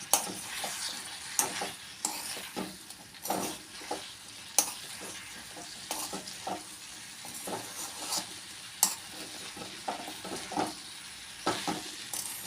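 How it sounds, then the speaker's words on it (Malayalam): Pickle made with green chili, ginger, garlic, curry leaves, asafoetida, chili powder and fenugreek powder is sautéed in a pan, a soft continuous sizzle broken by repeated close scrapes and taps of a spoon stirring. "അപ്പോഴേക്കും നമുക്ക് ഈ അച്ചാർ ഒന്നും കൂടി വഴറ്റിയെടുക്കാം."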